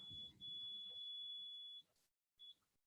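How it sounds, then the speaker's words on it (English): An Arduino buzzer on a distance sensor gives one long sustained high beep of nearly 1.5 seconds, then a short clipped beep after a brief silence, faint and close with low room noise underneath. "It will give you long beeps."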